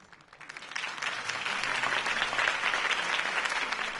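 A crowd applauds after a campaign speech in a video game, a broad, steady wash of many handclaps that swells in the first second and then holds evenly, slightly distant.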